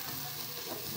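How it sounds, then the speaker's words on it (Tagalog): Hotdogs fry in a pan with a dense, continuous sizzle. The hiss is steady, moderately loud and close, with no voices over it. "Kunti pang luto ng hotdog."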